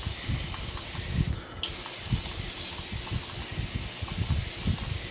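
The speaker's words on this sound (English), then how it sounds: "Just gonna do some sprays for my hair." A single short burst of hair spray from an aerosol can, about a third of a second long, hisses over steady room noise and low background rumble.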